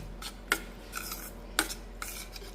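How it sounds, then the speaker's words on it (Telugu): A spoon scrapes and stirs jaggery through flattened rice (poha) in a pan, making a few distinct clinking, rasping strokes, close up with no talking. "ఈ బెల్లం అంతా కూడా దీనికి పట్టే వరకు మనం ఇలా కలుపుకోవాలి"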